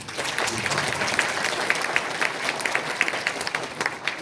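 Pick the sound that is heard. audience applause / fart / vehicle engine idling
audience applause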